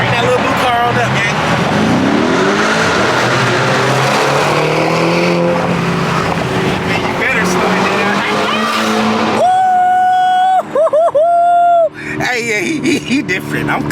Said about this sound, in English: Y'all hear the twin turbos